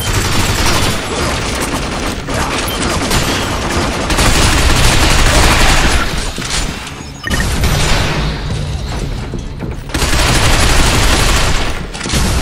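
Loud, sustained automatic gunfire fills a firefight in the shooter game Binary Domain, dense bursts with crashes and explosions, briefly dipping before resuming at full intensity.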